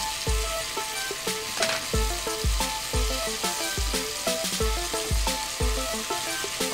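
Garlic paste frying with red chili and turmeric in a pan for a village-style achari chicken biryani, a steady loud sizzle broken by regular rhythmic scraping stirs, with no talking.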